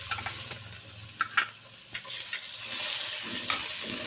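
Ginger garlic paste frying in a pan with browned onions, a continuous bright sizzle with occasional sharper spatters and stirring scrapes, close and fairly quiet.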